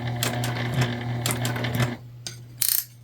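A home sewing machine stitches a fabric book sleeve with a shortened stitch length, a steady rhythmic whirring hum with clicks, easing off near the end before a few sharp clatters.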